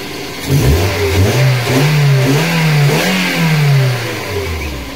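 A car engine under a fuel pressure check is revved from idle, climbing in pitch, holding a raised, loud rev for a few seconds and then settling back down, heard up close with no speech.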